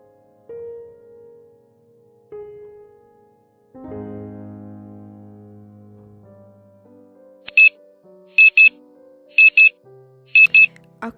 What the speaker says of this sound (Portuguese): Acordo com o som do meu despertador.